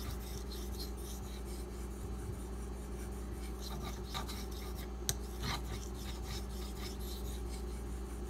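A knife with a convexed edge is sharpened to repair it, giving a steady, fairly quiet rasping and rubbing scrape that runs continuously, with one sharp click partway through and no talking.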